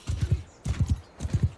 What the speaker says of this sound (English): Let's get on the horse